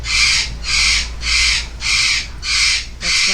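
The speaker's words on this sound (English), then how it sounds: "That's my bird." A pet bird kept in a garage lets out six loud, evenly spaced harsh squawks, each about a third of a second long, close and alone with no talking.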